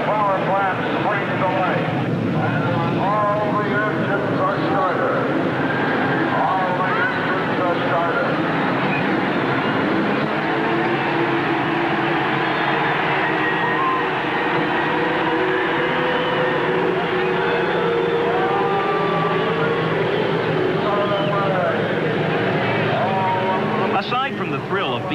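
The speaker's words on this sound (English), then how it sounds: "All the engines are started." Indy 500 race car engines from 1988 roar continuously, a loud, dense, wavering drone from many cars together, with someone talking over them.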